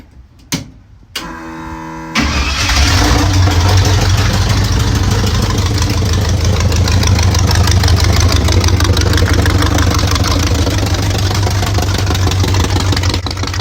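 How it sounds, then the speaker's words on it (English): A drag-racing S10 Blazer truck engine cranks briefly, catches and settles into a loud, steady idle right up close, its exhaust booming hard off the firewall from the headers, no voices over it. "this is the first engine when I got it running for the first time"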